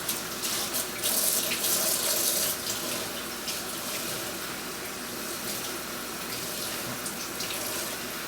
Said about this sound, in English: You use a tiny bit of soap just to give it a good wash, get any extra dye off of it, and give it a little rinse off.